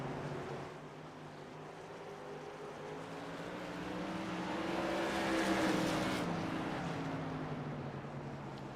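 Tour modified race cars circling an oval track, a blended engine drone that swells and fades as the pack passes, fairly distant and steady.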